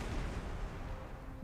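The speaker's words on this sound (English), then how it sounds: "so I guess we'll at least bomb the forts here" Bombers strike forts in the wartime strategy game Panzer Corps 2, producing a dense, rumbling barrage of distant booms and artillery-like blasts that rolls on steadily without pause.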